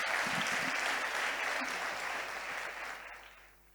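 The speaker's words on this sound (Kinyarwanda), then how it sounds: "Komera Imana amashyi rero." A church congregation gives God a round of applause, dense steady clapping that swells at first and then gradually fades away.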